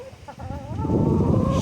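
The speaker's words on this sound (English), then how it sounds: "She is a very nice chicken." A hen named Black Beauty gives a short run of soft clucks and a rising, drawn-out warble, close by outdoors against a steady rush of wind.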